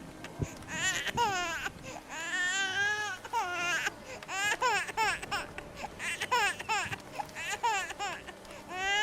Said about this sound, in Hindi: तभी दूर से किसी बच्चे की अजीब तरीके से रोने की आवाज आती है